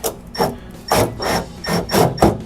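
A screw is driven in during a trunk light install on a Camaro/Firebird, giving loud, close, ratcheting bursts in four or five rhythmic strokes with brief pauses between them.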